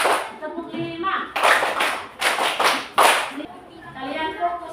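Schoolchildren in a Catholic religious education class clap together on a count, giving three or four loud, short bursts of group clapping separated by a voice talking between them.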